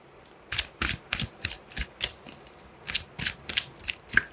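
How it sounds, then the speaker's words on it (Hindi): Tarot cards being shuffled by hand, a series of about a dozen quick, crisp riffling bursts in an uneven rhythm, close and clear with no talk over them. "One more shuffle."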